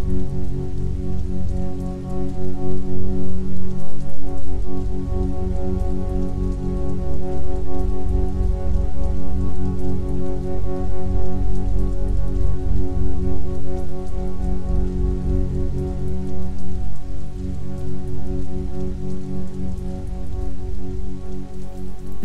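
Heavy rain pours down steadily and close on Randall's Island, New York, a dense continuous patter with no voices.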